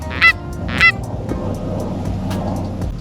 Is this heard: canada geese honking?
yes